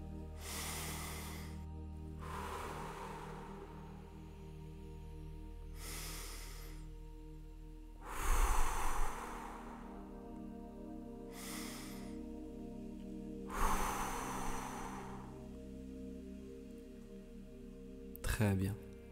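Three slow, deep breaths during a guided meditation, each a soft broad whoosh of inhaling and exhaling, spaced several seconds apart over a quiet background with a faint steady hum.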